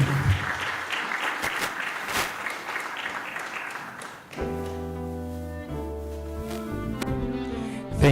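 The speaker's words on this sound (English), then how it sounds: "Let's clap up for her once again." Audience clapping for a speaker at a training programme launch event, a moderate burst of applause that gives way midway to music and faint voices in the room.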